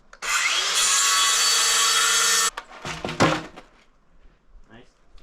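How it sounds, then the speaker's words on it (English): A DeWalt table saw rips a wooden board for a dog fence. There is a loud, harsh two-second burst of blade noise, then the whine stops abruptly and is followed by clattering wood and handling sounds. "rip it right down the middle with the table saw"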